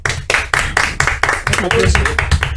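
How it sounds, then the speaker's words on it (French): A radio host clapping for himself in the studio, a short run of about ten evenly spaced, close hand claps, with his voice talking over the last part. "Je me suis applaudi."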